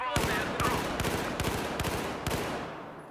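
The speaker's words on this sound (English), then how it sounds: "Just shooting with really short bursts there because that guy was really at the extent of the range that you'd want to be killing targets at with the AEK." An AEK 971 assault rifle in Battlefield 4 fires a string of short, rapid bursts at a distant target, each crack sharp and close, with a brief tail fading after the last shots.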